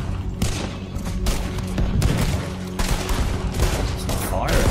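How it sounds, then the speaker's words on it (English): Rapid gunfire from a boat in Red Dead Redemption 2, a dense fusillade of overlapping shots and thuds running steadily throughout, loud and close, with voices talking over the shooting. "Oh, we're firing on the boat."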